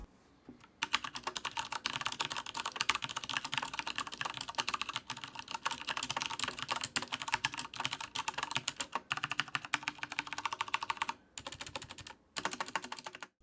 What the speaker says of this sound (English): I got my Alloy Elite in Cherry MX Browns, and